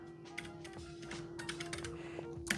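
Rapid, uneven keystrokes on an iPad Pro keyboard clatter close by, with a steady electrical hum underneath and a sharper click at the end.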